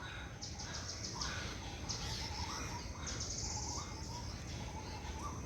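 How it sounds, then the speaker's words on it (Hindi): Birds call and chirp in dense woods beside the Ganga at Haridwar at sunset, with many bright overlapping tweets over a low steady background hum and faint insects. "सूर्य अस्त होते ही पंछी सब ऐसे बोलने लगते हैं।"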